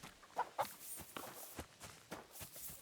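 Chickens in Kingdom Come: Deliverance II give short soft clucks among light footsteps on a farm, a scattered irregular pattern of quiet clucks and steps.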